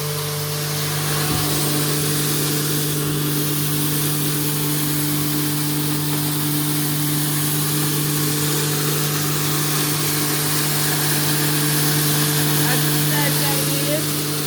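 A 5.5 kW, 220 V chaff-cutting feed grinder runs under load with its electric motor droning loudly and steadily, a strong constant hum with a whining mechanical roar that holds unchanged throughout.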